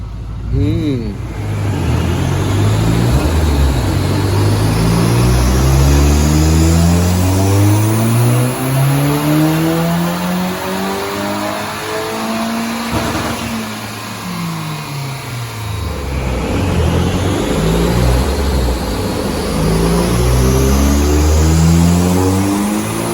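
A Smart ForFour Brabus 1.5 turbo (4G15T) revs hard on a dyno, loud engine runs sweeping up through the gears and dropping back, with a pause midway before a second climbing pull.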